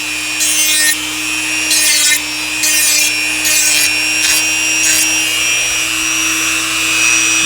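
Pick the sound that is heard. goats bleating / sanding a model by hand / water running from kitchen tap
sanding a model by hand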